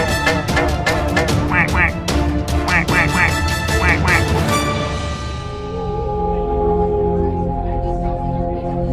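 A cartoon duck in a Growtopia Halloween animation quacks in a quick, loud string of repeated nasal quacks, voiced by a person imitating the call, before the sound gives way to lingering tonal notes.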